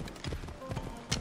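Horse hooves clip-clop in Assassin's Creed Odyssey, a quick run of soft muffled thuds under a busy game soundscape, with a brief snort near the end.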